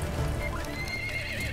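A horse neighs loudly in Battlefield 1 multiplayer, a whinny rising and falling over steady battle noise and hoof clip-clop, with no talk over it.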